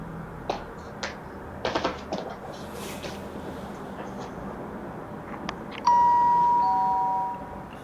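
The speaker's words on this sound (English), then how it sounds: "ringing the doorbell at 3 in the morning" A two-tone electronic doorbell chime rings out clearly at 3 a.m. after some soft tapping and clicks, its tones lingering and fading over a quiet background.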